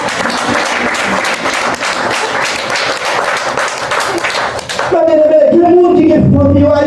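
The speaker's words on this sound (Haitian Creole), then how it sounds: "son applaudissement, là." A church congregation in Haiti bursts into dense, loud applause for about five seconds, then it cuts off and a voice carries on alone.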